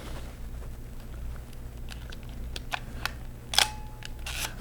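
A Nikon FE film camera shutter fires close up in a quiet room, with a couple of sharp mechanical clicks and small handling taps over a low steady hum.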